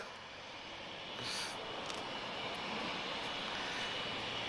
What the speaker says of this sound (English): as beautiful Azores inbound, A320-214, Tango Kilo Kilo, arriving from Ponce Delgado, and this is the unique livery.